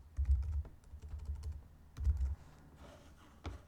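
Short bursts of computer keyboard typing, as a page name goes into a website builder, come close and clear in quick clusters separated by brief pauses, with no talk over them.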